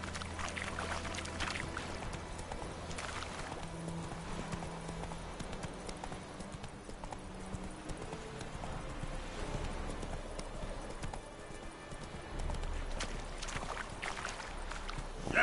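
A horse gallops in The Witcher 3 video game: rhythmic clip-clop hoofbeats run continuously, close and clear over a busy game soundscape, with no speech.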